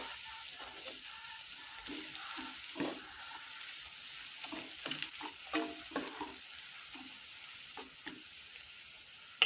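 Curry leaves dropped into hot oil with cumin seeds crackle and sizzle steadily up close, with scattered sharp pops over a constant frying hiss and some stirring.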